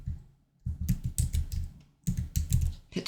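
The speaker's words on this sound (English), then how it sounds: "in here, I'm going to type" Typing on a computer keyboard while entering text in a design app: two close, brisk bursts of key clicks separated by a brief pause, loud and with no talking.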